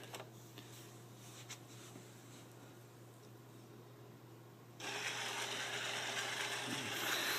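Small motors of a Roomba-based sumo robot run through a programmed sequence, a faint mechanical whir with a steady low hum that turns into louder broadband noise partway through.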